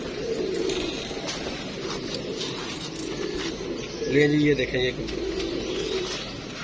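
Pigeons cooing near a loft, soft low coos rising briefly in the middle over background noise, with someone talking.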